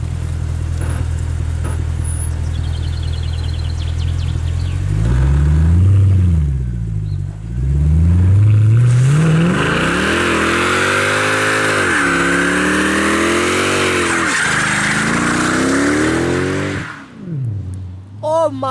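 A Mercedes C63 AMG drives past, its engine revving hard and rising in pitch as it approaches, roaring loudly close by, then receding with a final burst as it pulls away.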